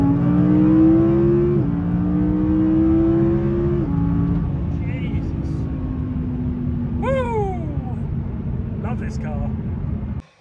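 A supercar engine revs steadily at a garage MOT test, the pitch stepping up and down through held revs and then settling to a lower drone before cutting off, with faint chatter and squeaks in the background.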